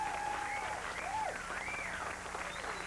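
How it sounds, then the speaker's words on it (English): Studio audience applause on a daytime talk show after a former Miami Dolphins cheerleader is introduced, steady dense clapping throughout at moderate level, with a few whistle-like tones over it. "How about a nice big round of applause for Taylor Scott."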